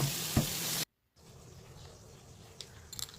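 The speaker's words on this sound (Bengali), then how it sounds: "তো এই দেখো, মাছটা ভেজে দিচ্ছি।" Fish frying in a pan at home gives a steady sizzle throughout, broken by a brief silent gap, with a few faint clinks near the end and no talk.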